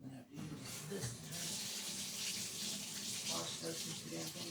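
Water gushes steadily into a tub to rinse something out, a loud, continuous hiss and splash that starts after a brief knock and runs on close by, with faint talk underneath.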